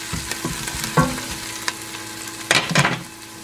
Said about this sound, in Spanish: Ya se guisó la cebolla por unos 2 minutos. La tengo a fuego medio.